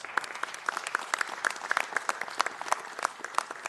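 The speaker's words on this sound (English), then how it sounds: "Let's give them a round of applause." Audience applause at a city council meeting, greeting board members: steady dense clapping from a moderately sized room, sustained and even across the short stretch with no voices over it.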